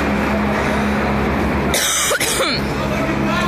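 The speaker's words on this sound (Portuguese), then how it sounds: "Perdão essa minha tosse" A single harsh cough, from tear gas, bursts out over a steady background rumble and hum during an aggressive eviction in Porto Alegre, Brazil, then the noise carries on.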